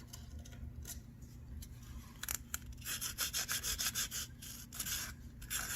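Sanding a carved plaster craft piece for an Elven-style office build, starting with a few soft scrapes and then settling into steady, rhythmic back-and-forth rubbing strokes, close and fairly loud.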